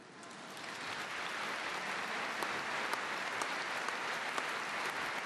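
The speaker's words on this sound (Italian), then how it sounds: "Applauso al Papa, eh?" Sustained applause from a church congregation for the Pope during a bishop's ordination, a steady dense wash of clapping with no voices over it.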